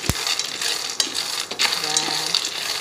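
Sacha inchi seeds being roasted in a hot pan on an induction stove set to frying mode, giving a steady close hiss of stirring and rattling seeds with a few sharp clinks and no talk.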